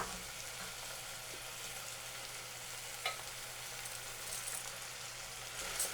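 Rice stirred into sautéed mushrooms in a pan for mushroom risotto, a quiet steady frying sizzle with a couple of light spoon scrapes and knocks.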